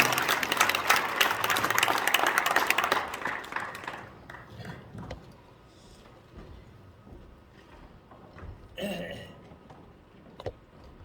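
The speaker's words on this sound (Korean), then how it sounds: "박수 주시기 바랍니다." A church congregation applauds loudly to welcome a pastor to the stage, a dense clapping roar that fades after about four seconds into quieter room noise and scattered sounds.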